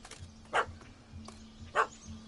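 A puppy in The Witcher video game gives two short, sharp barks about a second apart, over a quiet low hum.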